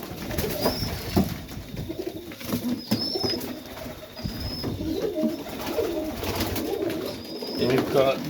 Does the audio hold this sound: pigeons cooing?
yes